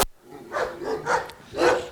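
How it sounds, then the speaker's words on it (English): Young German Shepherd, a nine-month-old male, barking four times in quick succession, each bark short and sharp, close and clear with brief pauses between. "This one is a German Shepherd, quite young. It's a male, 9 months old."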